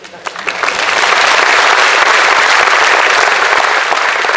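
Sustained audience applause at a printing-industry congress ceremony in Korea, many hands clapping densely and loudly, swelling quickly after a brief start and holding steady to the end.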